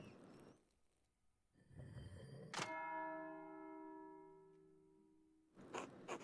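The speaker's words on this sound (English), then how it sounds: "That's the bell for Sext." A monastery church bell tolls for Sext in the game Pentiment, one clear ringing strike with a long, slowly fading hum between softer muffled thumps of game ambience.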